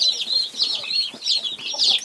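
Young chicks cheep in a brooder box, a busy overlapping chorus of high, shrill peeps, close and loud, with no talk.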